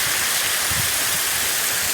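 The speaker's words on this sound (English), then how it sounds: "coming down and feeding into the secondary waterfall, which is there." Loud, constant roar of a secondary waterfall on a Tennessee trek, dense splashing rush filling the space with no voices.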